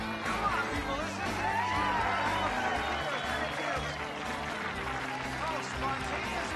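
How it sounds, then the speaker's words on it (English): Crowd applause and cheering fill a large venue, dense and steady throughout with a busy wash of voices mixed in, spontaneous and fairly loud. "spontaneous applause"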